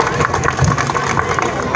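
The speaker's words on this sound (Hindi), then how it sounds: "जोरदार तालियां।" Loud, dense clapping and cheering from a crowd at an outdoor street-corner political rally for a ward election, a steady wash of applause with babble mixed in throughout.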